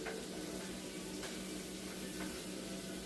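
Zucchini sizzles in a hot pan oiled with olive oil, a steady hissing fry that stays even and fairly close, with no voices over it.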